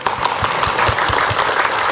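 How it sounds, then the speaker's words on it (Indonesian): Audience applause at an Islamic talk show, a steady dense wash of many people clapping together, loud and continuous throughout. "boleh tepuk tangan dulu?"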